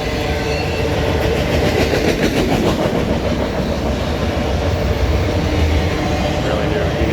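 A CSX autorack freight train rolls west on the old B&O mainline, a loud, steady rumble close by with rhythmic clickety-clack of wheels over rail joints throughout.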